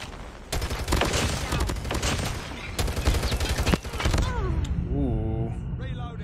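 Rapid video game gunfire during a Hardpoint match, dense bursts of automatic shots and thuds up close, followed by game effect tones, with someone talking over the action.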